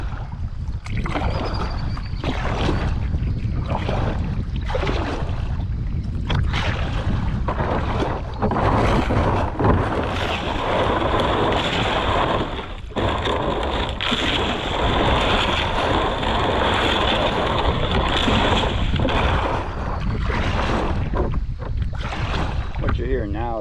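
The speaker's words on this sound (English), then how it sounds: "What you're hearing now is just all the loose gravel that the water pushes around." Loose gravel churned by water along a shore on an overcast day, a steady broadband rushing and crunching that carries on throughout, with wind buffeting the microphone.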